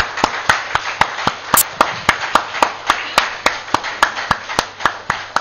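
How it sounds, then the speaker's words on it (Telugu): An audience claps together in a steady, even rhythm of sharp, distinct strikes, about three per second, loud and close, with no talking over it. "ఒకసారి గట్టిగా చప్పట్లు కొడదామండి"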